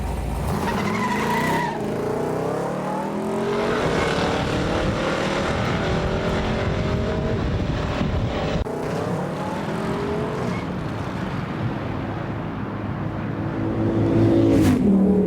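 A Chevy COPO Camaro muscle car engine revs hard and climbs through rising pitch sweeps, loud and close, with tire squeal and a sustained roar building toward the end.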